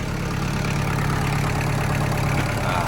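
A close, loud M5000SU 50 hp tractor engine runs with a steady, throbbing diesel drone throughout, and no voices are heard over it.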